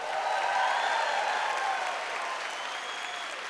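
A church audience breaks into sustained applause, a dense, even wash of many hands clapping that stays strong throughout and eases slightly toward the end, with no talk over it.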